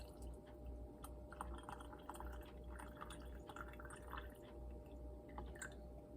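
Liquid poured into a canning jar of chili beans or spicy pinto beans, a steady low wash of pouring with soft drips and splashes, close and fairly quiet, no talking.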